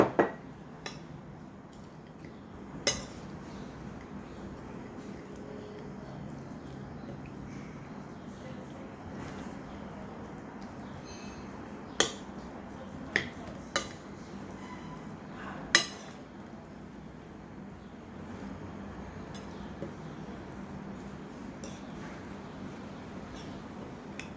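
Pomelo salad with ground dry shrimp and onion leaf being mixed in a bowl: soft rustling under a faint background hum, with a few sharp clinks of utensil on dish scattered through.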